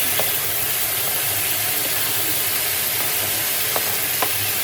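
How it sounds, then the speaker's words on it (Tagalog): Tomatoes hit a pan of frying onion and garlic, a loud, steady, close sizzle and hiss running throughout with faint stirring scrapes. "Lagyan na natin yung kamatis natin kasi masusunog yung sibuyas at saka bawang."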